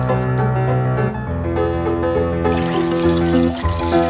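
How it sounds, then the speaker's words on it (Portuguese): Cloudy rinse water poured off washed rice grains, a continuous close trickling and splashing flow that grows brighter and splashier partway through. "E tirar a água branca."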